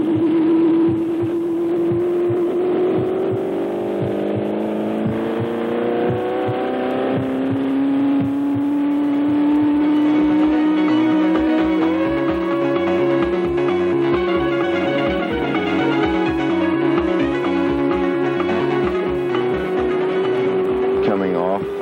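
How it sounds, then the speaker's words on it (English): A race car engine at full throttle during carburation testing ahead of the 500, its loud steady drone rising in pitch as it pulls, with a faint slight dip before climbing hard again, under a narrator's voice. "Coming off the throttle ever so slightly and then back into it hard."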